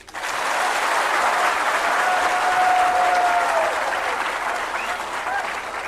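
A large audience of students claps together in steady, dense applause that swells quickly and holds loud for several seconds, with faint crowd murmur beneath.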